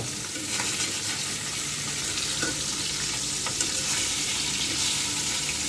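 Fish frying in a hot oiled kadai on a stove, with ustha (bitter gourd) nearby, giving a steady, dense sizzle throughout with a few faint clinks and stirring scrapes, close and fairly loud, with no talking.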